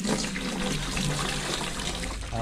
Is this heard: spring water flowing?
yes